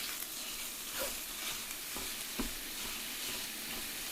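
Sausage fries in a pan with a steady soft sizzle while a five-pronged tool breaks it up, adding faint scraping taps against the pan surface.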